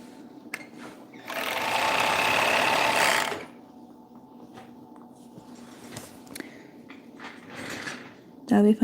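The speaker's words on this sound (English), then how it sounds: "Let me just sew this real fast." A sewing machine stitches a pair of pants in one fast, loud, buzzing run lasting about two seconds, followed by quieter handling clicks and rustles in a room where people talk.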